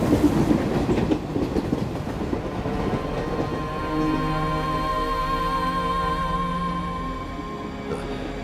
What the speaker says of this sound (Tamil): காலையில இருந்து நாம இந்த ட்ரெயின்ல தான் இருக்கோம்